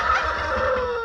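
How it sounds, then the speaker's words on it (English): Breeding turkeys on a farm call out in a brief, steady, warbling gobble at moderate distance, with no talking. "We also have turkeys over here, and the turkeys are breeding turkeys"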